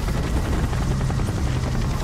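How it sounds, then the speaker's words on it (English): A helicopter in the video game Gotham Knights gives a dense, steady rotor roar, loud and continuous for a couple of seconds, with no talking. "So the helicopter's clearing up."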